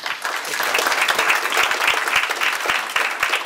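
An audience applauds at a school choice event dinner, a dense burst of many hands clapping at once, fairly loud and steady, with no talking over it.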